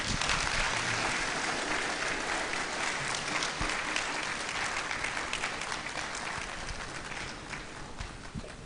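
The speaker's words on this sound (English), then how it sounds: "A round of applause again, ladies and gentlemen." Audience applause at a university summer school event, a steady wash of many hands clapping that holds for several seconds and slowly tapers.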